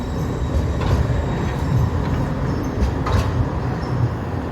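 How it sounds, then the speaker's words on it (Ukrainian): A green train passing in Augsburg, a loud, steady rumble of wheels and cars rolling by close, with faint squeals throughout. "А ну, тут такі поїзда"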